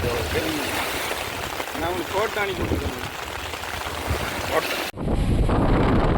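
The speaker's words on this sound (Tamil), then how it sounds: "கடற்கரைக்கு வந்தாவே காற்று எங்களை தள்ளுது" Strong wind gusting at the seashore during Cyclone Fengal, a loud continuous roar and microphone buffeting under people talking, briefly cutting out near the end before returning just as loud.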